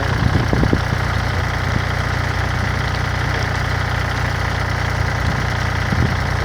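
A water pump's engine runs steadily while pumping water from a large pond for rice farming, a continuous low idling drone with slight knocking, close and loud, with no talk.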